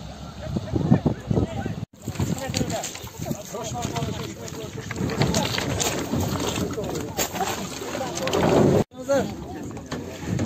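A motor boat made of three boats joined together with a motor fitted runs on a lake, its steady engine and water rush continuous beneath people talking, with a brief drop-out partway through.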